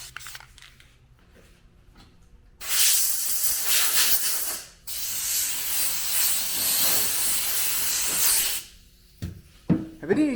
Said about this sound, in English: Let's hit it with some guide coat real quick before I sign off, just to see how close we are.